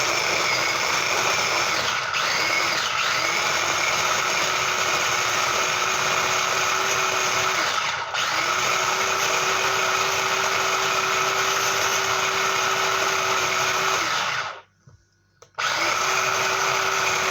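Small kitchen food processor whirring steadily as it chops bread into breadcrumbs, a continuous loud motor drone with brief dips, cutting out near the end and then starting up again.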